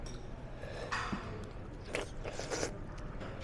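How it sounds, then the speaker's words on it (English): Someone bites into a crunchy corn fritter, giving a few faint, close crunches and chewing scrapes over a quiet background. "So this corn fritter is very crunchy and flavorful."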